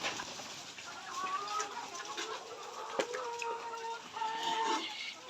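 Layer hens at a poultry farm cluck and call: a constant chorus of overlapping clucks and short cackles is heard at moderate distance, with a single sharp knock partway through.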